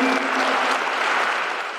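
Warm, dense applause from a crowd honoring two youth sports coaches in Green Bay, a short steady burst of many hands clapping with no voices over it.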